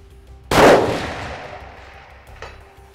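A single sharp rifle shot from a precision hunting rifle with a light trigger, fired at a South Texas whitetail, loud and close, followed by a long decaying rumble and a faint distant echo.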